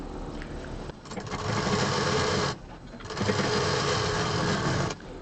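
Sewing machine stitching a handbag lining, a steady close mechanical whirr in two long runs broken by a short pause, with no talk.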